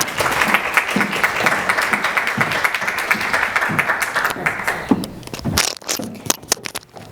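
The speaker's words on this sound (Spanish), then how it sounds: "la recibimos con un fuerte aplauso" Audience at an inauguration and lecture applauding a speaker's introduction, dense loud clapping that thins out toward the end into scattered claps.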